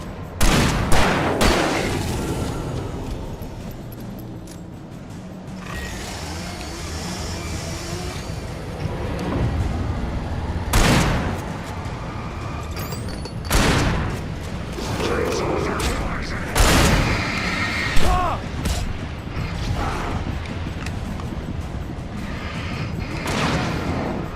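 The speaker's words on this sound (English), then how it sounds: "Shooting!" Sharp gunshots in Alan Wake Remastered crack out as a few separate loud blasts, spaced several seconds apart over a low rumbling, mechanical game ambience.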